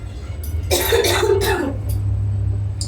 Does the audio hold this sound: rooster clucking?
no